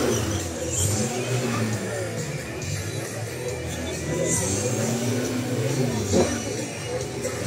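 A car is driven during a driving competition in Varna, its engine rising and falling at mid distance while a commentator talks over it and a crowd murmurs in the background.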